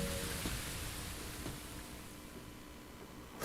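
Steady rain in the video game Bleach Rebirth of Souls, a dense, even hiss of falling water filling the scene, loud and continuous and slowly easing, with no voices.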